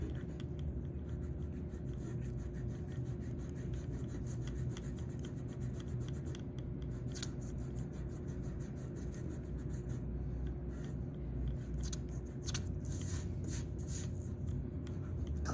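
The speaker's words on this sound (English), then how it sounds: "now I'm going to erase my extra orthogonals." A pencil eraser rubs out drawn perspective lines on paper, a soft continuous scratchy rasp close up, with brief sharper scrubbing strokes toward the end and no talking.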